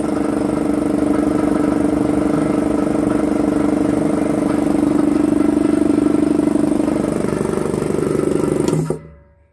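An electric motor driving an air compressor runs steadily with a loud, continuous hum and mechanical whir, then cuts off abruptly near the end.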